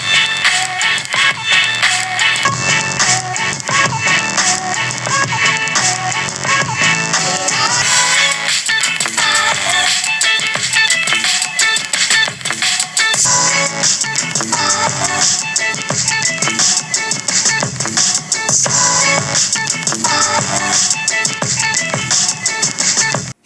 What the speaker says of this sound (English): a subwoofer that kicks in when connected